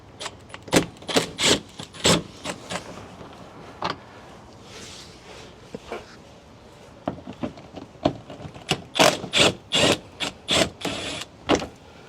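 A ratchet works loose 10 mm screws on the underbody tray of a 2019–2024 Toyota RAV4, producing repeated sharp clicking bursts close by, in irregular clusters with short quiet gaps between turns.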